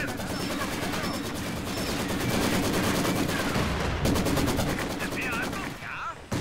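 Sustained, rapid machine gun fire in a Company of Heroes 2 match, loud and continuous bursts layered over a busy battlefield, with a brief lull near the end.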